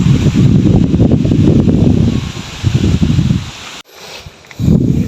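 Strong gusting wind on a farm pasture buffets the microphone and rustles foliage in loud, sustained surges, briefly dropping out before another heavy gust returns.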